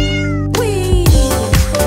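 A cat meows repeatedly in short, rising-and-falling cries over sustained musical tones in a French children's nursery rhyme song.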